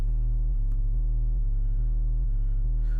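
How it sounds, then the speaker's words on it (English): A sub bass synth plays alone in a looping rhythmic pattern of deep sustained notes with rich buzzy harmonics, steady and loud, shifting pitch every half second or so. "By the sub it sounds like this by itself."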